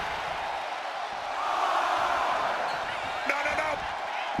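Crowd in a basketball video game cheering, a continuous roar that swells midway, with a sharp squeak and thud near the end.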